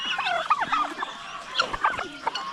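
A farm turkey gobbling: a rapid, warbling burst of close, loud gobbles, repeated in a couple of runs with brief gaps.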